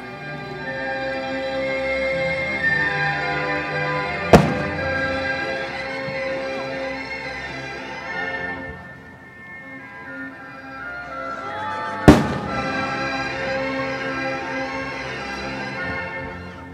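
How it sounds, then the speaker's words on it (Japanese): Two sharp, loud fireworks booms ring out several seconds apart over a continuous bed of layered, ringing background sound at the Kuwana Suigo fireworks festival in Japan. "マジック花火、大きくなったり小さくなったり、夜空でマジックショーの始まりです"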